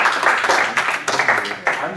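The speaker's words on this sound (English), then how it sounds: "Can we get like clap one more time?" An audience at a climate justice fellows session claps, a lively burst of many hands with distinct sharp accents and a cheer-like voice woven through.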